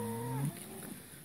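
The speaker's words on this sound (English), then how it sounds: "But really we're just moving the cows, give them a bit more grass." A cow gives one close, deep, wavering moo in a grass paddock, fading after half a second into quiet outdoor background.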